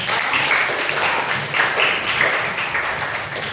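Applause from a class of sixth-grade students fills the room, a steady dense clapping that holds for a few seconds without easing off.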